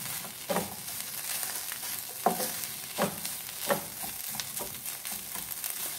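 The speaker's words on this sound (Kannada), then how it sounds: "ಇದಕ್ಕೆ ಎಲ್ಲವನ್ನು ಚೆನ್ನಾಗಿ ಮಿಕ್ಸ್ ಮಾಡ್ಕೋಬೇಕಿದು." Grated cheese filling for Mughlai paratha is stirred in a bowl, with close, regular scraping strokes about once a second over a soft, sizzling background.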